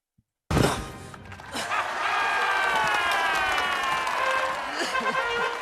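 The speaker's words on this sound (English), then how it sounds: "And they're all just like cheering around him." Crowd cheering from a scene in the film Harry Potter and the Goblet of Fire, a loud sustained roar of many voices with shouts and applause that swells after a sudden start and holds steady throughout.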